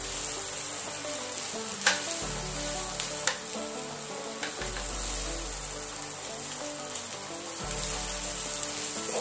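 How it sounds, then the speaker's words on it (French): Onions frying and browning in a pan, a steady close sizzle and crackle with occasional pops and faint stirring, low hum underneath, no voices. "mes oignons commencent à colorer tranquillement."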